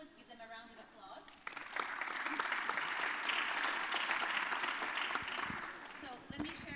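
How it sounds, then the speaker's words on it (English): An audience at an agriculture investment forum breaks into sustained applause, a dense wash of clapping that swells after a moment of speech and then fades as a voice returns. "Let's give them a round of applause."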